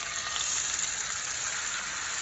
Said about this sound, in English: And you wanna hear that nice sizzle as it goes in.